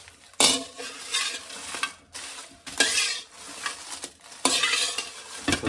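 Spices frying in a little oil over a low flame for sambar powder, stirred in bursts with a metal spoon scraping and rattling against the pan, loud gritty stirring alternating with brief pauses, close by and without any talking.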